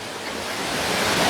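Water rushes and roars without a break at Meenmutty waterfall in Kummil. The sound is a steady, loud, close wash of noise.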